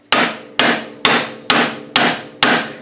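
Six loud, evenly spaced metallic hammer blows strike a steering part on a 2000 Mountain Max snowmobile, each sharp impact ringing briefly before the next, close up and without talk.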